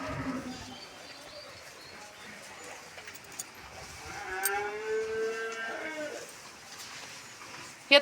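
Cows moo at a temple cattle shed, a drawn-out low call rising in the middle of the stretch over steady outdoor background, fairly distant and moderate in loudness.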